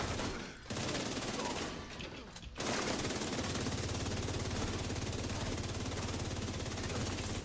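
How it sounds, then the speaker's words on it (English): Rapid automatic gunfire with bullets striking in The Division 2 video game, a dense continuous loud fusillade after a brief pause, with no talk. "the bullets were hitting so fast, you couldn't die from it"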